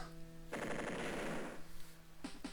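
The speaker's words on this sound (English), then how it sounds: "My poor heroic tank gets just melted by rocket fire" Rocket fire striking a tank in the Advance Wars video game sounds as a dense, rapid burst of rattling shots lasting about a second, followed by two short sharp pops, loud and close over a low electronic hum.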